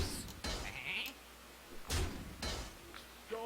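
A sheep bleats in the Hearthstone digital card game, a few short nasal bleats mixed with clicks and other game sound effects, fairly close and clear.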